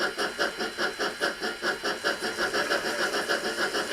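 An N gauge model locomotive, a poor runner with no traction tyres, pulls brand new Dapol coaches, giving a quick, steady rhythmic chuffing and whirring with regular pulses throughout.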